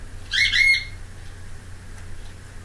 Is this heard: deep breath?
no